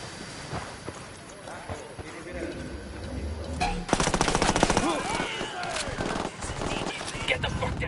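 Gunfire from the video game Ghost Recon Wildlands, with bursts growing dense and loud midway through, sharp rapid cracks over a busy game mix with voices talking.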